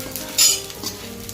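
Methi pak mixture frying and being stirred in a pan, a steady close sizzle with a louder scraping burst of stirring partway through and faint utensil clinks.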